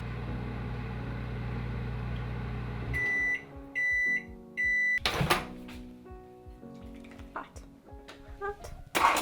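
A microwave oven hums steadily while melting butter, then gives three loud beeps in a row, each about half a second long. Its door then clicks open, followed by clattering in a kitchen.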